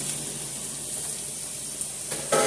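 Shrimp sizzling in a hot pan for chicken and shrimp alfredo: a steady, even hiss of frying, close and moderately loud, with a brief louder crackle near the end.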